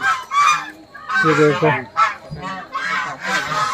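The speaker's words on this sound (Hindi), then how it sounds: "इधर देखिए विहार आश्रम में देखिए बत्तख है।" Ducks at a temple ashram in Puri honk loudly in repeated close calls, mixed with people talking nearby.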